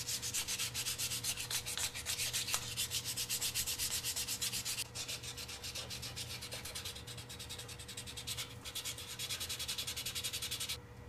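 Sandpaper rubs back and forth over a micarta knife handle in steady, close, rasping strokes, with a brief pause midway and no voices.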